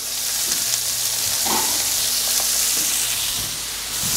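Leeks dropped into hot butter in a pan sizzle loudly and continuously up close, with a few soft stirring knocks.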